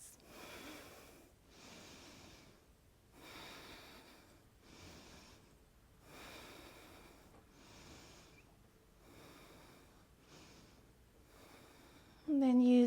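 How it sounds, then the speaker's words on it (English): Slow, deep breaths during a morning yoga practice come in a regular rhythm of soft inhales and exhales, close and quiet, and a brief voice enters at the very end. "2 more deep breaths"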